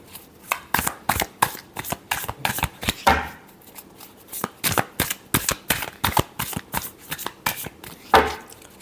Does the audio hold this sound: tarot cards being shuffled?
yes